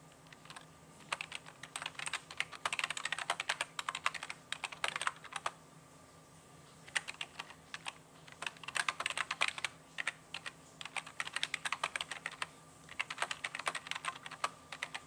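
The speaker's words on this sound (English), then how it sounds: "Sorry you guys are hearing my keyboard clicking and clacking all over the place" Computer keyboard clacking steadily during a Genshin Impact gaming session, with bursts of rapid typing separated by short pauses over a low background hum, fairly close and moderately loud, no voices.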